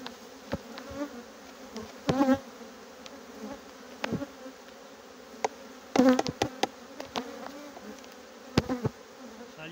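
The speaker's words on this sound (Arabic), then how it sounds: "العسالة، يعني العسالة عمرا نحل" Honey bees buzz steadily from a full, strong hive during a spring frame addition, a dense continuous hum with occasional sharp knocks and clicks of hive handling scattered through it.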